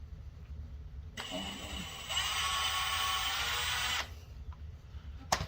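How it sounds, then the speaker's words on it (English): A power drill with a 1/8 inch bit bores a screw pilot hole into wood for an aquarium canopy, whirring steadily for about three seconds, close and fairly loud, with a brief tap afterward. "Drill the hole so you don't split it."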